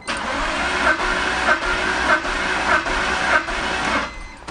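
A BMW E46 3-Series engine cranks on the starter during a compression test, its steady rapid chugging pulsing about every 0.6 seconds, loud and close, without any talk.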